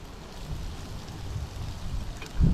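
Gusty wind blowing outdoors around an open cooking fire ringed with rocks, a steady low rumble of buffeting on the microphone that swells louder near the end, with no talk.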